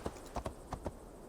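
Horse hooves clip-clopping in the video game Assassin's Creed Valhalla, a few quick faint hoofbeats in uneven pairs over a low background.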